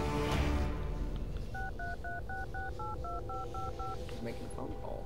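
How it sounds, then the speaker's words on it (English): In the video game Serious Sam 3: BFE, a phone is dialed with a quick run of about ten evenly spaced touch-tone beeps over a steady, busy game background. "He's making a phone call."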